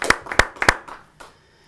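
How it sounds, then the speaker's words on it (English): A small audience at a storytelling festival masterclass in Amsterdam claps briefly, a few sharp close hand claps over under a second, then a faint final clap and quiet. "Maybe we can clap."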